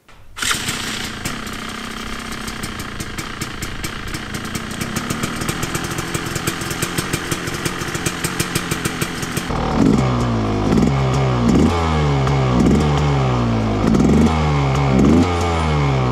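A Rieju MR 300 dirt bike engine fires up and idles with a rapid buzzing putter, then revs repeatedly in loud rising surges, close by with no talking.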